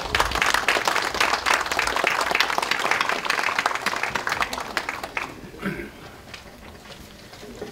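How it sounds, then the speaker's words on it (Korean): Applause from lawmakers at a Democratic Party caucus meeting, brisk and dense for about five seconds, then tapering to a few scattered claps with faint murmuring. "박수를 좀 보내주시기 바랍니다."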